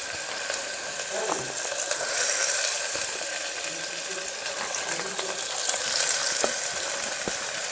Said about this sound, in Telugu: ఆయిల్ వేడెక్కినాక ఆనియన్స్, కట్ చేసిన ఆనియన్స్ 2 మీడియం సైజ్ వేస్తున్నానండి